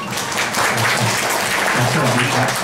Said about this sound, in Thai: ขอเสียงปรบมือให้กับท่านอาจารย์ด้วยค่ะ